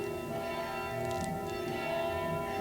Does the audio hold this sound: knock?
no